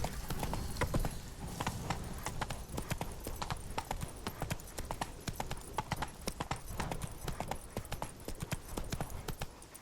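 Horse hooves gallop in a fast, steady clip-clop rhythm, close and loud throughout, in the video game The Witcher 3, with a brief neigh and a few spoken words over the hoofbeats.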